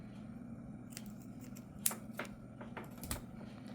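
Scissors snipping crochet yarn after a finishing chain, a few quiet, crisp cuts and small rustles close by over a low background hum, no talk.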